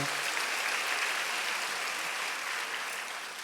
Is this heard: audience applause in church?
yes